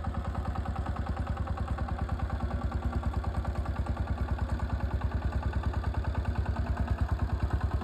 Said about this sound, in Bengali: এটি আসলে ACI 28 power tiller new black addition